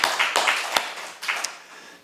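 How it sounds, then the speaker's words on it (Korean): Scattered hand claps ring out from a congregation during a Korean church Sunday morning service, a handful of sharp separate claps fading away quickly. "위로의 박수 한번 보내주시기 바랍니다"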